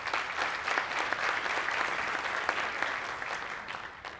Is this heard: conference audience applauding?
yes